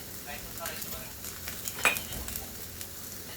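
Vegetables sizzle in a pan while being stirred, a quiet steady frying hiss with soft scraping and a sharp clink of utensil against the pan partway through, close and without talk.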